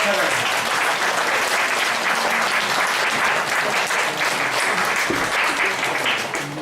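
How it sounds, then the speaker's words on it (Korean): A church congregation gives strong, continuous applause for children during a Children's Sunday service, a dense wash of clapping with a voice faintly underneath. "우리 어린이들 한번 보시면서 힘찬 박수 한번 주실까요?"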